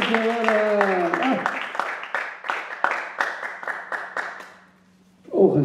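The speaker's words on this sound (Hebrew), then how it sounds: "כפיים!" An audience at a rabbi's Torah lecture claps together in a steady rhythmic beat for several seconds. A voice is heard before the clapping starts, and talking resumes at the end.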